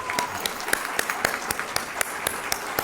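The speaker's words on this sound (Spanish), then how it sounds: "Lo recibimos con un fuerte aplauso" At the Premio Copé 2024 awards ceremony, an audience claps in a distinct, regular rhythm, with sharp evenly spaced hand claps repeating over a soft background murmur.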